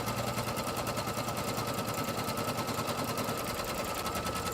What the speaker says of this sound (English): it's stitching the placement, or stitch the placement line for the batting